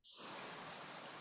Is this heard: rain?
yes